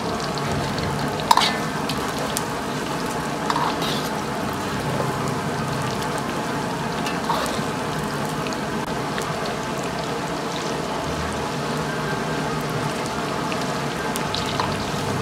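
Corn kernels deep-fry in hot oil in a wok over medium heat, giving a constant dense crackling sizzle with a few louder pops near the start and no talk.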